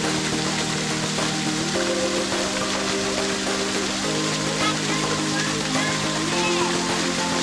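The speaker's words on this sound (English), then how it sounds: "Walk up around here, stand up here, and have an awesome little roadside shower." A natural roadside shower in Fiji, water pouring steadily from above in a loud, continuous rushing splash close by, with music-like tones and voices mixed in underneath.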